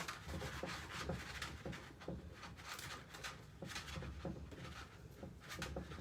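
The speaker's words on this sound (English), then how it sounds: "I'm rubbing and pulling now." A Dixie Belle transfer is rubbed and pulled on a piece of furniture, giving faint, repeated scratchy rubbing strokes in an uneven rhythm, close up and quiet with no talk.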